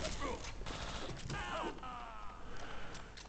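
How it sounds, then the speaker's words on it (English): Game combat in Bioshock 2 multiplayer as a homing grenade is used, with bursts of gunfire-like blasts and mechanical effects layered densely over a constant background. It is loud and busy throughout. "Homing grenade!"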